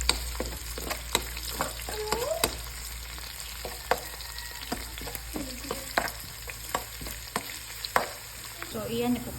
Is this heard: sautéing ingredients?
yes